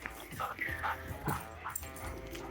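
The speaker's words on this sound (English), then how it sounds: "And Ace just growled at Blue" Dogs, including silver Labradors at a meet and greet, give short yips and whimpery growls in quick bursts, close by, with people talking over them.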